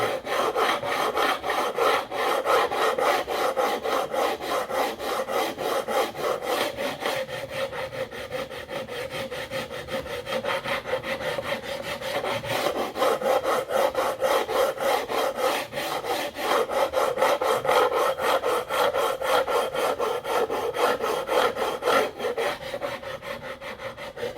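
A hand file levels stainless steel frets on a Gretsch guitar, rasping in steady back-and-forth strokes that run continuously and close up, with no voices.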